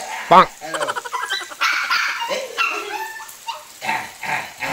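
A puppy gives a short sharp bark near the start, followed by whimpering, yipping vocalizations mixed with a person talking nearby.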